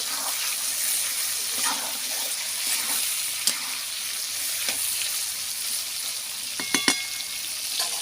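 Chicken frying in a pan, a steady close hiss and crackle of sizzling oil with a few sharp pops and scraping clicks near the end.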